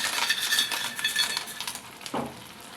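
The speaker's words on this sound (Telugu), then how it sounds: "ఇప్పుడు దీనిలో ఫ్రై చేసిన వడియాలను వేసేద్దాం" Fried sun-dried vadiyalu tipped into a simmering drumstick curry, with a metal spoon clinking and scraping against the pot, then a softer thud as they drop in near the end.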